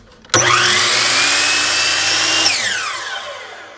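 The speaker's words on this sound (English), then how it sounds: "we're gonna jump back over to the miter saw and finish the cuts on these" A miter saw slices through a wooden fence picket, starting abruptly with a loud high whine, cutting steadily for about two seconds, then winding down as the blade spins to a stop, close and clear with no talk.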